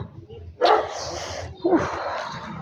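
A dog outside a shop barks twice, close and loud, with two sharp barks about a second apart over faint background noise.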